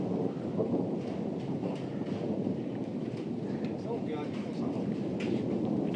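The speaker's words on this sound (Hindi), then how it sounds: "कितनी भयंकर बिजली कड़क रही है" Thunder during a Nainital thunderstorm, a steady low rolling rumble that fills the whole stretch with a windy, rainy wash. Faint voices are mixed in beneath it.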